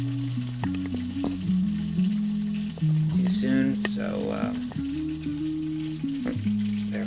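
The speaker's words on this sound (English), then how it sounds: "So it looks like the butter is just about melted." Butter melting in a pan while making oven-baked mac and cheese, a steady soft sizzle running under continuous talking.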